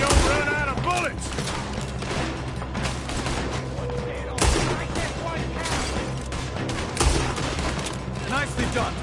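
Dense gunfire from a robbery shootout in a Western-style scene, a sustained fusillade of rapid shots with a few louder booms near 4.5 and 7 seconds, mixed with voices and shouting throughout.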